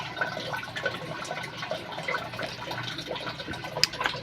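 Tap water running into a sink basin to collect water, a steady broadband wash with small splashes and drips throughout, fairly close and moderately loud, no voices.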